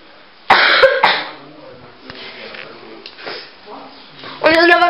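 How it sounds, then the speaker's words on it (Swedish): One person coughs harshly up close, with a tickle in the throat, then talks and coughs again at the end. "Och ni undrar varför jag hostade så satt jag till och kittade i halsen."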